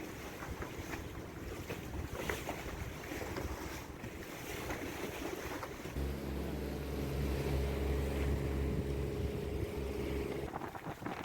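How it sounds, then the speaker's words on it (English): Wind gusting from squalls over a sailboat at sea in the Bahamas-to-Caribbean passage, a steady broadband roar with water wash and microphone buffeting, growing louder and heavier partway through, with no talking. "possibly the squalls here are producing a little bit of wind"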